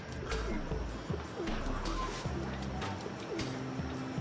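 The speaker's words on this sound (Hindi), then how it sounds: "ऊपर से आवाज भी इनकी कबूतरों की सुनाई दे रही है" Pigeons coo in low, repeated throaty calls nearby, overlapping one another against a steady background hiss of heavy rain.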